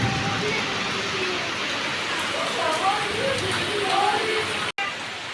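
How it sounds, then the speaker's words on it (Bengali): Steady rain falls with a constant hiss, close by, while faint voices murmur in the background. "দেখো সকাল হতে না শুরু বৃষ্টি"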